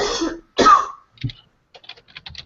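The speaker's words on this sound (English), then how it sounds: "I keep coughing" Two harsh coughs in quick succession open the scene, followed by scattered soft clicking like keyboard typing in a quiet room.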